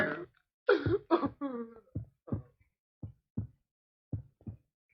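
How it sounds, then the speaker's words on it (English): A heart beating as a sound effect in a radio drama: a run of dull, low thumps that slow and grow sparser, following a few louder strained, cough-like vocal sounds at the start. "Listen to the heart beat its last beat."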